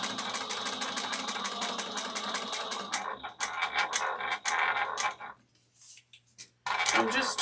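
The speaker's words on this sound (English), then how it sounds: "I'm just top stitching." A sewing machine top stitching a fussy fabric, running in fast even bursts of needle clatter that stop and restart several times, close up, with a voice speaking over part of it.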